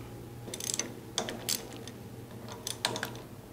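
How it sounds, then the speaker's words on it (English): Removing 10 mm bolts that secure the sprockets on a Jet or Powermatic woodworking planer: a few close, sharp ratchet clicks come in short bursts separated by pauses, with no talk. "Then remove these three 10 millimeter bolts securing the sprockets."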